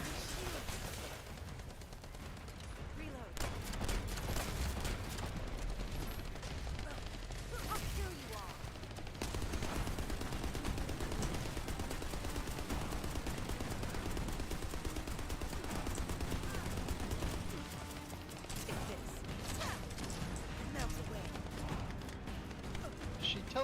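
Sustained automatic gunfire in the looter-shooter game The First Descendant, loud rattling bursts with mechanical clanks running almost continuously, with a player talking intermittently over the combat.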